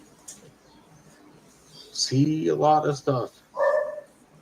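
A dog barks a few times in quick succession nearby, three or four short sharp barks after a quiet stretch, with faint background noise.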